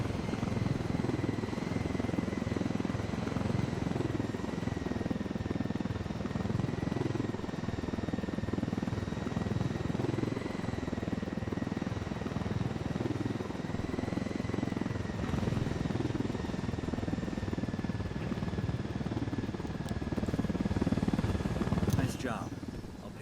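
A helicopter in Ghost Recon Wildlands flies with a constant, close rotor thump and a whining turbine drone that holds steady throughout, while someone talks over it.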